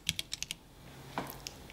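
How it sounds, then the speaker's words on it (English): Typing on a mini mechanical keyboard: a quick run of five crisp key clicks, a short pause, then a few more scattered keystrokes. The clicks are quiet and close, with faint background hiss and no voices. "is a bright and shiny mini-mechanical keyboard with a lot of LEDs"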